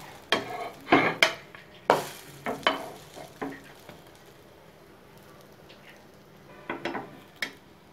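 Egg French toast fries in a pan after being flipped. A soft sizzle runs under several sharp spatula scrapes and knocks in the first few seconds, then a quieter stretch, then a few more clinks near the end.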